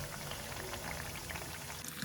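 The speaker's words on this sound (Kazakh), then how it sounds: "қызып тұрған майда көкөністердің барлығын кезекпен кезек қуырамыз. Ең алдымен сәбізді қуырамыз." Carrots frying in hot oil for maqluba give a steady, dense sizzle and crackle that holds at one level throughout, close and continuous with no talk over it.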